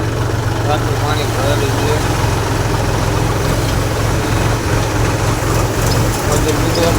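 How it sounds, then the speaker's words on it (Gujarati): Tractor engine running steadily through waterlogged village roads on farm work, a continuous low idling rumble close by with a person speaking over it throughout. "મજૂર ટ્રેક્ટર ચલાવે છે."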